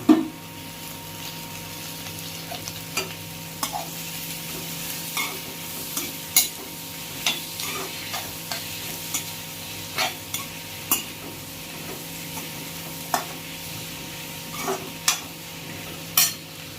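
Large chopped tomatoes go into a pan of onion and garlic and are stirred while they sauté, a soft, low sizzle broken by repeated sharp scrapes and taps of a utensil against the pan, close and unaccompanied.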